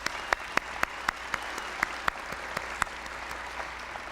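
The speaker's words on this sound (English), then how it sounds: "you deserve a great round of applause" Audience applause at a university speech by President Clinton, steady clapping from a crowd with sharp individual claps standing out, moderately loud throughout.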